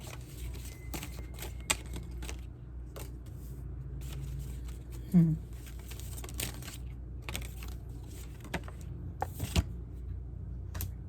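Soft, rapid riffling of cards repeats through a quiet room, with scattered taps and clicks and one brief louder burst partway through.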